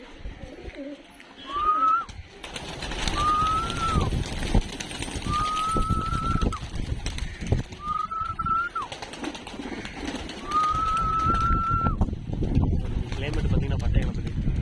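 Pigeons in an opened coop cage give five drawn-out coos spaced about two seconds apart, close and clear, over scuffling movement and a person talking.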